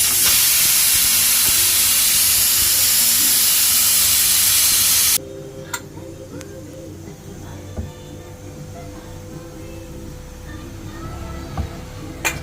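A pressure cooker holding country chicken lets off a loud, steady hissing whistle that cuts off abruptly, leaving quiet kitchen background with faint clinks.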